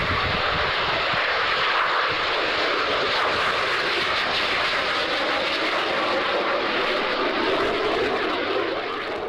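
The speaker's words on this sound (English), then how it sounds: "Here we go, Hunter taking off." Hawker Hunter jet taking off at a D-Day 50th anniversary event, a loud, steady broadband engine roar holding for the whole stretch with no talk over it.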